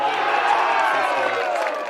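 A crowd at a country football match, Echuca versus Mansfield, murmurs and calls out in a steady, moderately loud wash of voices with no clear cheer or applause.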